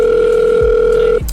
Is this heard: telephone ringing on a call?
yes